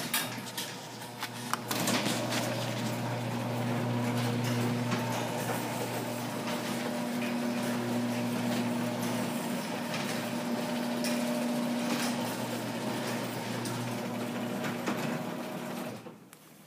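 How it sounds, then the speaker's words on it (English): Menards Linear and Sears Craftsman garage door openers run together in a garage, giving a steady, loud mechanical motor hum and drone with rattling chain noise that lasts about fifteen seconds before cutting off. "I'll be opening the openers for you."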